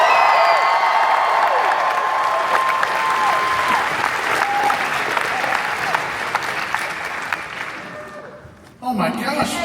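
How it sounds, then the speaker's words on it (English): Loud, continuous applause and cheering from a packed audience at a convention panel, with whoops and claps filling the room and a brief dip near the end. "And finally, make some noise for Mr. Charles Gray."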